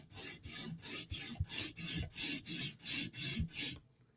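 Spyderco flat-ground knife blade is drawn across a sharpening stone to remove the heel, about eight rhythmic rasping strokes close up, then silence.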